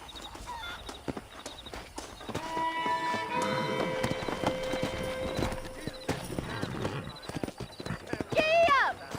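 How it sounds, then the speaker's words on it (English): Horses walk and trot in Red Dead Redemption, hooves clip-clopping steadily on the ground amid other game sounds, with a sustained musical tone in the middle and a loud horse whinny near the end. "Let's see if we can't wrangle some horses."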